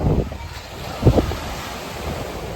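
Waves washing onto a beach in Budva, a soft continuous surf with one brief louder wash, under heavy wind buffeting the microphone.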